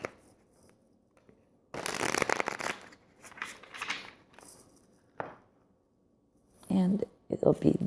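Cards are shuffled for an I Ching reading, with bursts of papery riffling and shuffling separated by quiet gaps, and a few brief handling noises toward the end.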